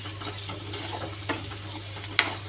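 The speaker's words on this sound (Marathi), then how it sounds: "परत एकदा हलवून घ्यायची भाजी." Spine gourd sizzles steadily in a pan while being stirred, with a constant frying hiss. Two sharper scraping clicks from the utensil stand out, close by.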